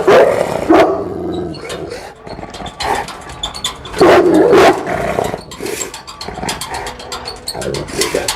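An aggressive dog snarls and barks loudly up close, with harsh repeated bursts of barking and growling in an uneven rhythm, while a person speaks briefly between outbursts.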